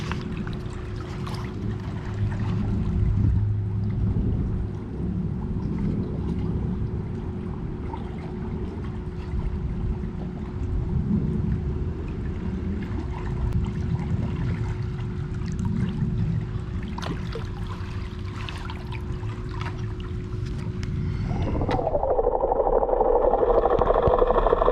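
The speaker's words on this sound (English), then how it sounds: "the cleaner's moving around well now" A Hayward suction pool cleaner working underwater in a pool gives a steady, continuous churning and low mechanical hum, with a rising watery rush near the end.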